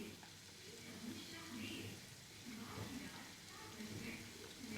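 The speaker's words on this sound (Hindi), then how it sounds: "उसको हमने हल्का सा सौते करना है।" Finely chopped onion sautéing in oil in a pan, a soft, steady sizzle with occasional stirring, while a person talks over it.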